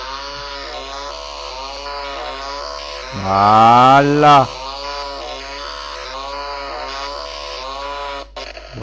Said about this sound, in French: Allez la tronçonneuse.